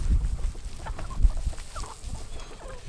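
A flock of farm chickens clucks and chatters close by, with overlapping short calls and scratching under a soft, busy background.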